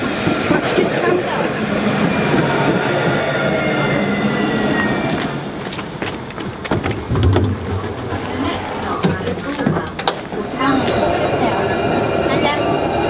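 A Nottingham tram passes close by, a loud, steady rumble with rail squeal and clatter that dips and swells, while people talk intermittently over it.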